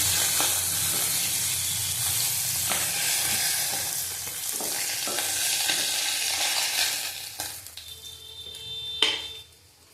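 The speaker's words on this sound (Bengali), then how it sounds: "মাছ ভাজা হয়ে গেছে মাথাটাও ভেজে নিলাম" A catla fish head fries in hot oil, giving a loud, continuous sizzle with crackling spits and scraping stirs, a sharper clatter near the end before the hiss fades slightly.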